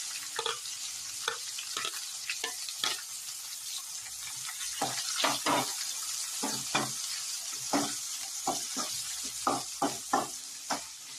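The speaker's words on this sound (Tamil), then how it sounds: "வெங்காயம் ஆட் பண்ணதுக்கு அப்புறம் நல்லா நம்ம வதக்கிக்கலாம்" Onions and peeled garlic sautéing in a pan for a Tamil brinjal kara kuzhambu, a soft steady sizzle with repeated sharp scrapes and stirring clatters of a spoon against the pan, fairly close and with no talking.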